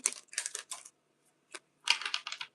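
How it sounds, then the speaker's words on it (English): A deck of tarot cards riffles and flutters in quick bursts, crisp and close, with a short pause between shuffles. "let's give the deck a really big shuffle."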